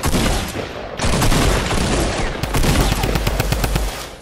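Rapid automatic gunfire from the video game Fortnite Battle Royale, played on PS4 in a solo match, with dense loud bursts and overlapping shots filling the scene, a brief gap near one second, then sustained firing.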